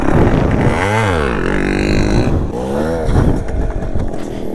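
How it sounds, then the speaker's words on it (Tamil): A non-two-stroke motorcycle engine revs hard during wheelie practice, rising and falling in two loud swooping throttle blips, up close and alone with a rough idle between. "இன்னும் கொஞ்சம் திராட்டி கொடுத்து கொஞ்சம் வண்டி இழுங்க."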